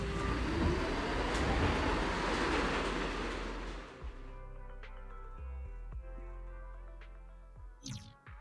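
A metro train ride in the video game Zenless Zone Zero: a loud rushing roar of the moving train fades after a few seconds into quieter carriage hum with scattered clicks and clacks.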